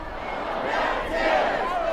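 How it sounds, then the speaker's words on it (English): A large protest crowd chants in unison on King Street in Alexandria, Virginia, during a peaceful George Floyd and Black Lives Matter demonstration, a dense, steady roar of many voices at middle distance. "Echoing the chants"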